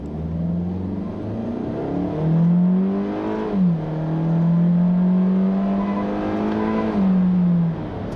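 A 2017 Kia Forte S with a conventional automatic accelerates at full throttle, its engine rising in pitch, dipping briefly at a gear change, then climbing again, loud and close with no talking.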